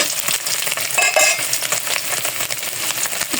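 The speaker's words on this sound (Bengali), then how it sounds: "পনিরগুলো ভাজা হয়ে গেছে।" Paneer cubes frying in hot oil with cumin in a kadai, a steady loud crackling sizzle with scraping stirring sounds over it, no voices.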